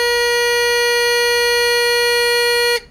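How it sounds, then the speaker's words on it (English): A steady electronic buzzer tone from a littleBits pill box reminder sounds loudly and continuously for nearly three seconds with rich harmonics, then cuts off abruptly. "when she hears the buzzer, here, I'll show you. Let's do a test."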